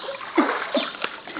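A baby taking a first bath, hands splashing water in a few soft, close splats and ripples, with faint murmurs in the background.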